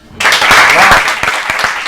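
Sudden loud burst of audience applause that starts abruptly and holds steady, dense and close, with a few sharper individual claps near the end.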